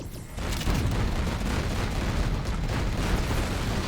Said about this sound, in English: Carpet bomb there for leader misses the target